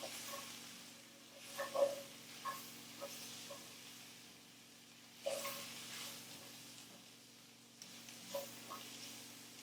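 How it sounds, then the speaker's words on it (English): Onions sizzle and fry quietly in a pan at close range while a spoon stirs them in a few distinct bursts, with faint scraping and clinks over a steady low hiss. "Give the onions a stir."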